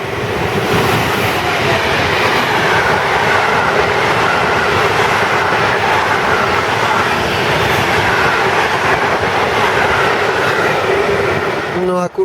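Railway cars shunting at a steelworks rumble and clatter continuously at close range, a steady heavy rolling noise with a brief squeal near the end.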